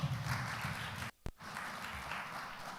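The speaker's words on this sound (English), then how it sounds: "A big hand clap for Dr." Audience applause at a suppliers forum, a dense steady wash of clapping that briefly cuts out near the middle before resuming, heard from a moderate distance.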